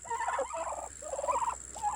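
Several turkeys gobble in rapid, warbling bursts, close by, one call overlapping the next against a faint background hum.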